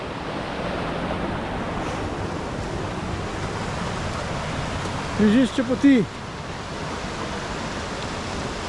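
The stream below the Brinta waterfall in Slovenia rushes as a steady, loud broadband roar, with a short burst of speech partway through.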